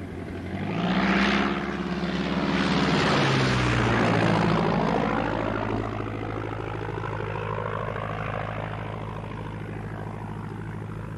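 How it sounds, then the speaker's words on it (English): An Avro biplane's propeller engine roars close by as it takes off, the pitch rising then sweeping lower as the aircraft moves away, leaving a steady engine drone. "Thanks for the Avro, sir. Permission to take off."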